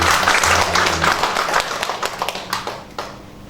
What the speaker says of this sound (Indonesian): Mau beri tepuk tangan buat Tuhan.